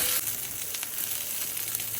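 Ginger, garlic, onion, cumin, black pepper and fennel seeds roasting in a pan for a country chicken curry, a steady close hiss of sizzling with no voices.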